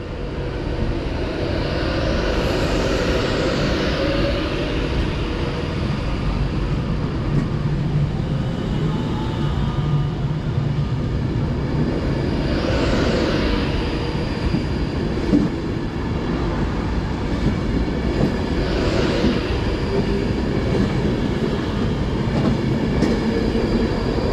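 Train 390137, an electric express on the 11:58 London Euston to Glasgow Central service, passes Lancaster station on the West Coast Main Line with a loud, sustained roar and rumble, rising and falling in intensity, with no talk.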